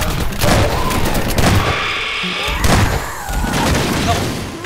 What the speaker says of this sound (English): I survived that and was so shocked I forgot about the after explosions